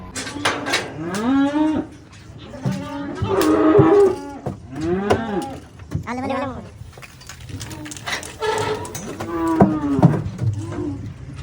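Cattle on a Saudi Arabian farm moo loudly and repeatedly inside a shed, with long, close, overlapping calls filling the whole stretch.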